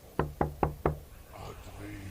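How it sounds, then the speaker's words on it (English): Four evenly spaced, hollow knocks on a door, loud and close, used as an effect in a horror story narration, followed by faint murmuring sounds. "clear as day, a knocking sound"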